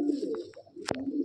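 Madrasi pigeon giving a continuous low coo at close range, broken near the end by a brief sharp knock or rustle before the cooing resumes; nobody speaks.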